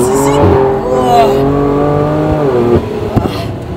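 BMW M3 drifting at the edge of grip, loud engine revving with shifting pitch and squealing tires, a few sharp bumps near the end, with voices in the car.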